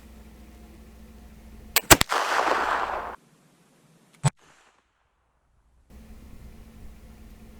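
A flintlock gun fires a ball outdoors: a sharp click of the lock and flash, then a loud crack with a burst of noisy rush lasting about a second, followed by silence and a brief later knock.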